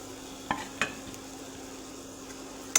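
Chopped bottle gourd being stirred into a pan of frying red chilli powder and turmeric, with a quiet sizzle under a few sharp scrapes and clinks of the spoon against the pan.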